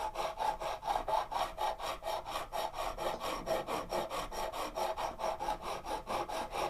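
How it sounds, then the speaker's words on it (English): A metal file crowns a guitar fret during a setup on a PRS guitar. About twenty-five quick, even rasping strokes run back and forth in a steady rhythm, close but fairly quiet, with no talking. "you want to make sure you file the fret evenly"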